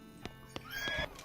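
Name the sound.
horse neighing in video game West of Loathing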